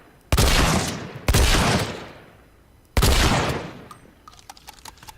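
Three loud, close gunshots from a weapon in the Caliber shooter game, spaced about a second or more apart, each with a long reverberant decay, followed by faint clicks and small metallic taps.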